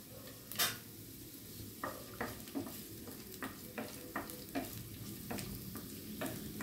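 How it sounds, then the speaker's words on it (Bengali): Onion and garlic frying in refined oil in a pan, a low steady sizzle with a series of sharp spatula scrapes and taps roughly every half second, close and fairly quiet. "পেঁয়াজ রসুন রিফাইন অয়েলে প্রথমে ভেজে নিচ্ছি"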